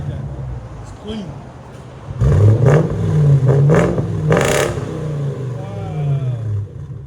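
A 2007 Jaguar XK-R with its supercharged 4.2L V8 and deleted muffler idles low, then blips into a loud, raspy rev that holds and slowly settles back toward idle, up close, with someone talking over it.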